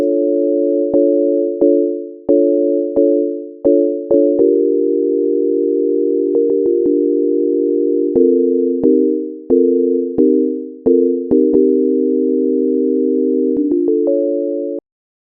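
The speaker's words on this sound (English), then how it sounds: "I'm going to play that with just a straight sine wave" Clean, pure electronic tones from a synthesizer playing a plain sine wave play a simple melody of steady held notes, each starting with a small click, with no other sounds.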